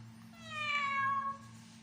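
A parrot imitates a cat, giving one drawn-out, rising and falling meow, faint against a low steady hum.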